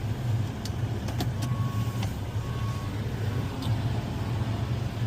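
A box truck backs up toward a loading ramp on a frozen food delivery route, its engine idling in a steady low rumble with faint, intermittent tones above, close and continuous with no talk.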